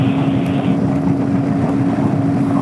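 A scooter engine runs at wide open throttle during a long-distance road ride, giving a loud, steady buzzing drone close to the microphone, mixed with rushing wind noise and no speech.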